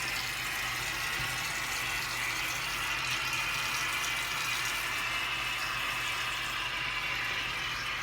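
Tap water runs steadily into a pressure cooker being filled for kidney beans, a continuous broadband rush with no talk over it.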